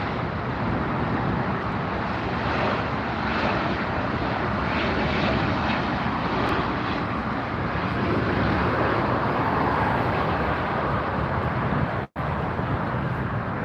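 A Frontier Airlines jet at LAX airport produces a continuous broad roar that holds steady throughout, with one sharp click near the end and no voices.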